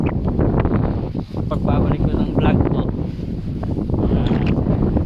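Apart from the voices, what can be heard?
strong wind at Capayas Dam before a storm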